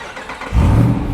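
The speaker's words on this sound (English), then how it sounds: "it has 8 cylinders under the hood and a lovely exhaust" A 2024 Jeep Wrangler 392 V8 bursts into a deep, loud exhaust rev halfway through after a quieter start, the low rumble swelling and holding close by.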